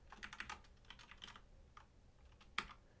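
Quiet, close clicking of a computer keyboard as someone types a date: a few quick irregular bursts of keystrokes with short pauses between them.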